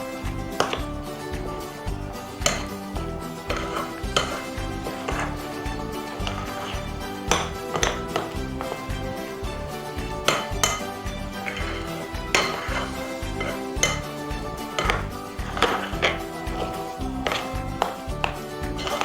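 Garlic murukku dough with margarine is stirred in a bowl, giving a continuous stream of quick clinking and scraping knocks of a utensil against the bowl, busy and close, with no voices.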